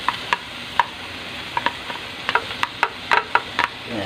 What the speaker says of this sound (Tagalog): Isasama ko naman ang ating kamatis.